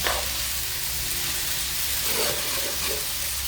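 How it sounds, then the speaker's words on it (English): Sweet potato noodles, Italian sausage and vegetables such as bora beans and carrots stir-fry in a pan over a wood fire, producing a steady, fairly loud hiss and sizzle with faint stirring movements and no talking. "And I'll just stir fry it."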